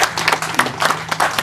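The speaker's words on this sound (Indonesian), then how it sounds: "Ini tepuk tangan buat kita semua." Applause at a city community program ceremony in Indonesia, a brief burst of crowd clapping heard up close, dense and fairly loud.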